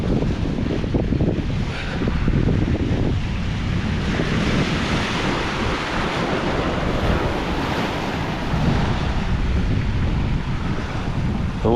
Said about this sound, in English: The tide's breaking through because the sea defences aren't as great at this bit.